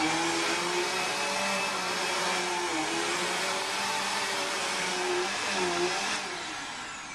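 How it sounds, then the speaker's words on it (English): A vacuum cleaner runs continuously at close range, its loud whine wavering slightly as it moves across carpet, picking up dry carpet cleaning powder. "Vacuum it up."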